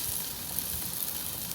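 A steak sears in a hot pan with a soft, continuous sizzle and faint crackling pops, steady and fairly quiet, with no voices.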